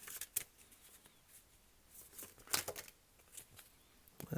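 Tarot cards shuffled and drawn in quiet bursts, soft papery riffles and flicks with faint snaps near the start, middle and end, close and low in level with no voices.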